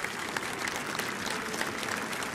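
Applause from a book fair audience for four guests at the end of a French interview session, steady dense clapping throughout without voices.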